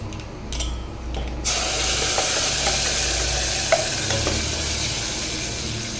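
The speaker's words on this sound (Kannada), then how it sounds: "ರುಬ್ಬಿ ಇಟ್ಕೊಂಡಿದ್ದಂತಹ ಮಸಾಲೆಯನ್ನು ಒಗ್ಗರಣೆಗೆ ಸೇರಿಸ್ಕೊಳ್ತಾ ಇದ್ದೀನಿ" A wet ground masala paste hits hot tempering oil with a sudden loud sizzle that settles into steady frying, broken by a few light scraping clinks, while making curry leaf and pepper sambar.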